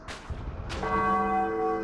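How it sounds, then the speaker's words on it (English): A large bell in the Spider-Man: Web of Shadows video game is struck once after some clanking impacts, then rings out with a loud, sustained metallic tone of layered steady harmonics that hangs without fading. "Try hitting that bell."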